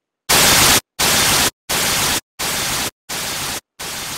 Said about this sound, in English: White noise is an equal mix of sound frequencies.